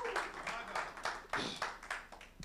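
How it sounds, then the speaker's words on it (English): A church congregation clapping their hands during a worship service, with irregular bursts of claps in a loose rhythm mixed with voices throughout. "Somebody clap your hands to the Lord."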